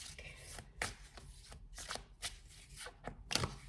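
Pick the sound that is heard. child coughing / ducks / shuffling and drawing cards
shuffling and drawing cards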